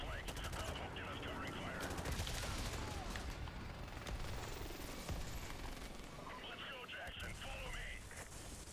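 Gunfire rattles in Call of Duty: Modern Warfare Remastered on The Bog mission, sustained shots and bursts running through the whole stretch at a low level while players talk over it.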